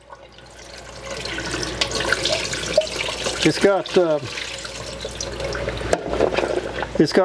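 Water runs steadily into a fruit and vegetable washer that lets the water get deeper, a continuous splashing flow with a person talking over it.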